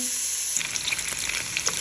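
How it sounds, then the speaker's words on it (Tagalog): Pork frying in a hot pot for pork in banana ketchup, a close, steady hiss of sizzling fat with small crackles and pops throughout. "Mainit na yung kaldero, ilagay ko na ang baboy"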